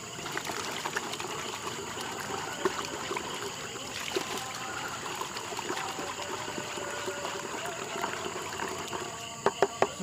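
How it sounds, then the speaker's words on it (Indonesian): Bleach cleaner being stirred into water while mixing a weed-killer solution outdoors, giving a continuous soft trickling, sloshing wash of liquid with a few small knocks near the end. "Yang selanjutnya kita aduk sehingga clean pemutih itu tercampur rata dengan air."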